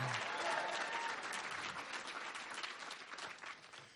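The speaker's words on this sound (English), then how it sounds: "Give yourselves a round of applause." An audience at a justice presentation breaks into applause, a full, sustained wash of clapping that holds steady and then gradually thins over a few seconds.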